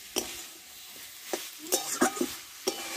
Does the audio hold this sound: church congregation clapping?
no